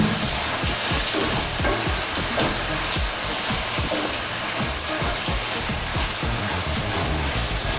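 Tomatoes frying with ginger-garlic paste in a pan for Hyderabadi chicken biryani, giving a steady, loud sizzle with dense crackling pops throughout, close up and with no talk.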